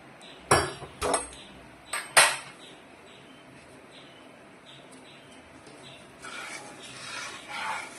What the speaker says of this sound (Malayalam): പഞ്ചസാര ഇളക്കിക്കൊണ്ടിരിക്കട്ടോ.